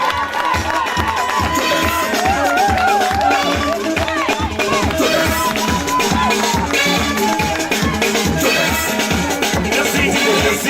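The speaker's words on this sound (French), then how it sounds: "On applaudit encore, mesdames et messieurs." A large audience applauds and cheers steadily, dense rhythmic clapping mixed with voices, loud and sustained throughout.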